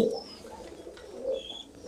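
Pigeons nesting on eggs give soft, low cooing, a couple of muffled rolling calls against a faint indoor background hum, with no voices present.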